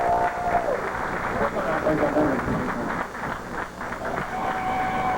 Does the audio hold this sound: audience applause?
yes